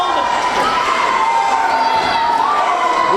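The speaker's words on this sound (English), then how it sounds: "The crowd is still chanting parking lot" Crowd at a live wrestling event cheering and chanting loudly, a dense sustained roar of many voices with shouting rising above it throughout.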